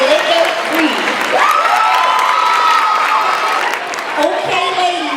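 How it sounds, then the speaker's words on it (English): Lively applause mixed with cheering and high whoops from a standing audience welcoming a speaker, a sustained crowd roar with excited voices rising over the clapping. "please stand up and give a round of applause to Miss Malacka Reed"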